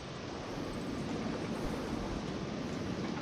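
A roller coaster train in the Planet Coaster video game passes underneath as a steady, broad rolling rumble with a dense rushing hiss, constant and fairly loud throughout with no talk.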